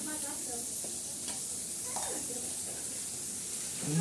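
Green chili and garlic thecha sizzles in oil on a tawa over a wood-fired chulha, giving a steady, close frying hiss with occasional stirring scrapes. A voice speaks faintly over it.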